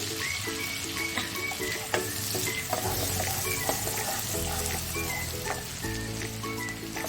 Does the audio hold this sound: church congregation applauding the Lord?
no